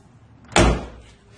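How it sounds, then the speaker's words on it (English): A car door on a 1976 Porsche 911S shuts with a single solid, close thud, preceded by a faint latch click and followed by a short ringing decay. "Doors opening and closed."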